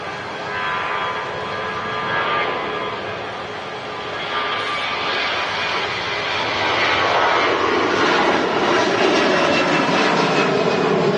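An EasyJet airliner takes off from Manchester Airport bound for Dalaman, its jet engines a steady broadband roar that grows louder toward the end as the aircraft powers away.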